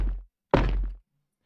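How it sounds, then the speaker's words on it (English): Heavy armored footsteps on stone from the Space Marine 2 video game land as two deep, muffled thuds about half a second apart. Each is weighty and close, with low-end thump, followed by silence. "I did the entire same workflow for the footsteps on the stone parts."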